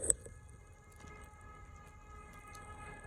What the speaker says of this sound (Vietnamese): Ủa sao bị còi hú vậy ta?